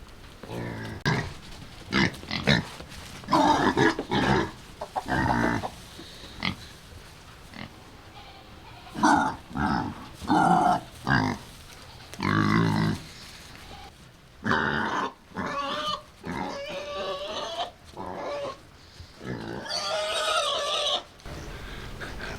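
Farm pigs grunt and oink repeatedly at close range in irregular bursts, with some higher squeals later on and chickens faintly clucking in the background.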